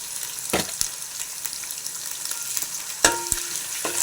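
Spices, coriander powder and cumin sizzling in a pan for biryani as they are stirred: a soft, steady frying hiss broken by a few sharp scrapes and knocks of the spoon against the pan, with no talking.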